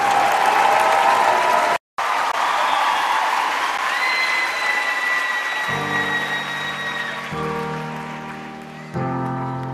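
Live concert audience clapping for a singer, a dense broad wash of applause that carries loud through the whole stretch with a brief dropout, as music with sustained tones starts under it near the end.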